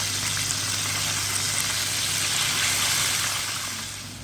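Chicken legs frying in very hot oil, a dense steady sizzle filling the whole stretch with no pauses, loud and close, fading slightly at the end.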